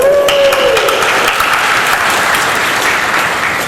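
Loud, sustained applause from a crowd at a PAX Prime 2015 panel, continuous clapping filling the whole stretch.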